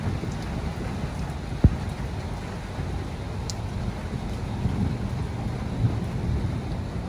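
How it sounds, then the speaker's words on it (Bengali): Rain falls in a village during a storm as a steady, even hiss that stays moderately quiet throughout, broken only by a couple of brief sharp ticks and no clear loud thunderclap. "বৃষ্টি শুরু হয়ে গেছে"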